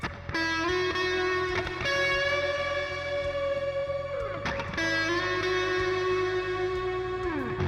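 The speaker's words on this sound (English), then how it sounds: "And add some reverb with some shimmer." Sustained clean electric guitar chords through a Neural DSP Gojira amp plugin ring out, washed in lush, shimmering reverb with high octave-like overtones trailing behind each change.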